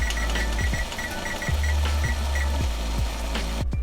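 Kitchen timer alarm beeping in short repeated bursts over a loud steady hum and clatter, with no talking.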